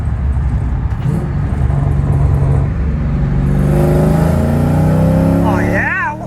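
LS-swapped BMW E36 pulling hard in third gear, the engine note climbing steadily under loud road and wind roar, close and sustained, with a rising whine toward the end.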